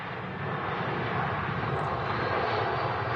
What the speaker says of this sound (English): we have an EasyJet touching down on the main runway